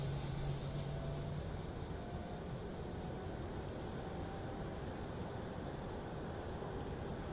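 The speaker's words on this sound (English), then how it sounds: "looks like we got a good APU spooling up" A Boeing 737-800 auxiliary power unit spools up in Microsoft Flight Simulator, a steady broadband roar with a high, constant whine above it, holding at an even level throughout with no talking.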